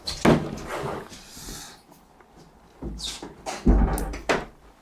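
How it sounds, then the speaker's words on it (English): A door swinging shut indoors in a workshop, with a couple of firm thuds near the end, close and moderately loud, amid rustling and scattered handling noises. "We close the door."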